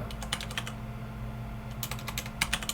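Keystrokes on a computer keyboard during a Linux command-line session, entered in two short bursts of quick, close clicks separated by a pause, over a steady low electrical hum.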